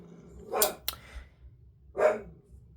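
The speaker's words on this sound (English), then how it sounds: "And that's a dog." A dog barks twice indoors, short sharp woofs spaced about a second and a half apart, moderately near, with a brief click between them and no talking.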